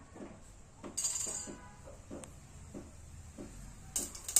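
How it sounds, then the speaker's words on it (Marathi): Mustard seeds crackle in hot oil inside a pressure cooker while tempering for dal khichdi, giving a scattered run of small, sharp pops and ticks at moderate loudness with no voices. "मोहरी आता तडतडायला लागलेली"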